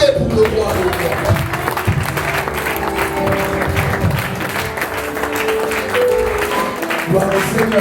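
Congregation at a church breakfast gathering clapping and cheering in praise, a steady dense ovation throughout, loud and sustained with voices mixed in.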